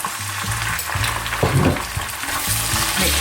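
Onions sizzling in a pan as ginger garlic paste is added for a lamb samosa filling, a steady close frying hiss with a few stirring scrapes throughout.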